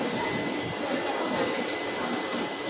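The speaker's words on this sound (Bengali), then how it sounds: "এই আমাদের ট্রেন আলেপ্পি এক্সপ্রেস" Low rumbling noise of the Alleppey Express at platform 6 of Chennai Central station, with a steady mechanical hum and faint rattling, moderately distant.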